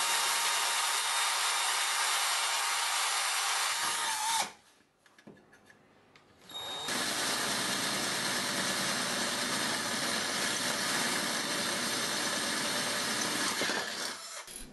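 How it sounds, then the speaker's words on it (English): A power drill bores holes into the metal case of a computer power supply, a loud, continuous grinding whine that pauses briefly in the middle and then resumes steadily, with no voices. "When drilling holes, I recommend you to use a small drill bit first and then go to big one"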